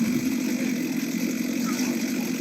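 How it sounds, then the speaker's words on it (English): Old antique engines putter away at the 2022 Iowa State Fair, a steady, fairly loud mechanical drone running throughout with constant crowd ambience mixed in. "There are some old antique engines going here and puttering away."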